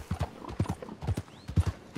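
Horse hooves clip-clop in the video game Red Dead Redemption 2, a close, brisk, uneven walking rhythm of sharp knocks over about two seconds, with a faint whinny-like tone in the middle.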